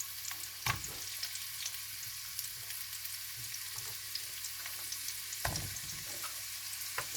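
Carrots stir-frying in a hot pan, a soft continuous sizzle broken by a few louder clattering stirs, quiet and close with no talking.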